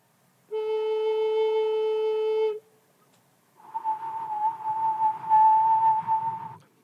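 A long, steady Native flute-like note sounds first, then after a short silence a person whistles a low, breathy sustained note imitating that flute's fundamental, wavering slightly and held for about three seconds.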